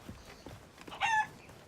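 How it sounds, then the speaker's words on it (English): A red speckled chicken in the pirate video game Sea of Thieves gives one short, faint cluck over quiet ambient game sound. "we'll go sell the red speckled chicken"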